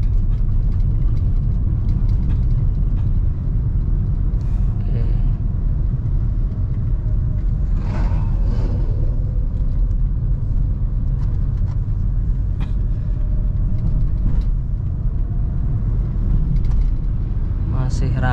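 Steady roar of road traffic heard from inside a moving car, with engine rumble and passing vehicles swelling and fading.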